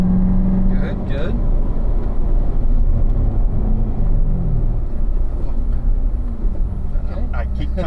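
A car engine rumbles and rises in revs as the driver blips the throttle to rev-match during heel-toe downshift practice, with an instructor talking over the steady engine drone inside the cabin.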